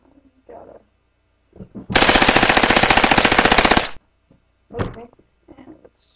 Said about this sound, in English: Let's try the machine gun.